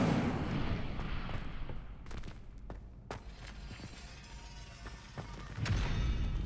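In the video game Hogwarts Legacy, casting the Incendio fire spell sets off a burst of fiery whooshing and crackling, followed by sharp blasts, impacts and a final surge of flame.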